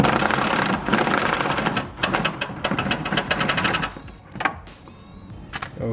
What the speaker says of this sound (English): we will need to use a 13mm with extension for that